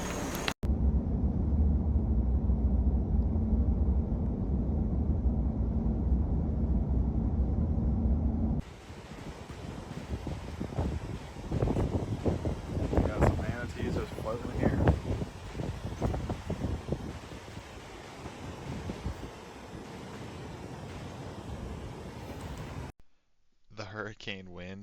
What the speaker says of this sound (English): The hurricane wind was insanely bad in this clip